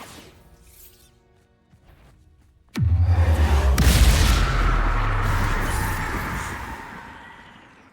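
The Bombarda blasting spell goes off in Hogwarts Legacy: a sudden, loud explosive boom breaks a quiet stretch, followed by a heavy rumbling crash that slowly fades.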